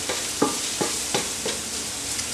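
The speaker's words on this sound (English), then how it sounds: "all I'm going to do is saute these vegetables for a couple of minutes" Peppers and onions sauté in a pan for Philly cheesesteak egg rolls, with a spatula scraping and stirring at steady intervals over a continuous close sizzle and no voices.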